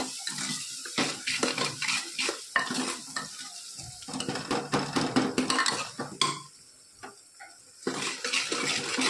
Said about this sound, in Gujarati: થોડોક બાદશાહનો મસાલો નાખીશું જે પાવભાજીનો મસાલો આવે હળદર માપને જ નાખીશું મીઠું સ્વાદ અનુસાર બધું સરસ આપણે મિક્સ કરી લઈએ